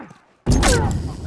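Grenade thrown in the game The Last of Us, a sudden loud blast bursting after a quiet moment and ringing out with rumbling debris for the rest of the moment.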